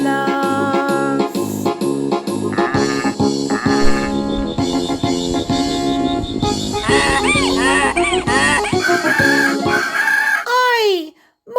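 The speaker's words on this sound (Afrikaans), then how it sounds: "'n boerbok, 'n sprinkaan, 'n donkie en 'n haan. Hoor hoe hulle raas hier op die plaas." Barnyard animal sounds, including a rooster's crow, a goat, a donkey and a grasshopper, ring out loudly inside an upbeat Afrikaans children's farm song, layered over steady music before a final bending cry and an abrupt stop.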